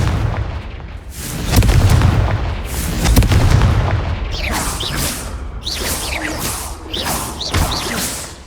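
A Confringo fire spell goes off in Hogwarts Legacy as booming blasts, several heavy explosive thumps followed by sharp whooshing bursts and crackling impacts, loud and close throughout.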